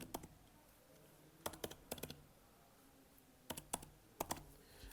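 Keystrokes on a computer keyboard as an Aadhaar number is entered into an online application form, quiet clicks in short clustered bursts separated by pauses, close and alone in a hushed room.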